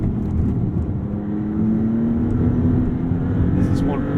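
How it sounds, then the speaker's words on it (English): Maserati MC20 sports car on Bridgestone Potenza tyres accelerating hard from low speed, a steady engine drone climbing in pitch from inside the cabin, with a voice speaking over it. "This is one wickedly fast car."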